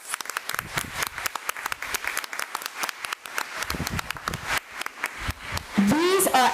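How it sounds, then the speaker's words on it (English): An audience at a committee of the whole meeting applauds students from the Band of Blue, a dense patter of many hands clapping at moderate distance, with scattered voices and a brief cheer near the end. "Let's give these students a round of applause."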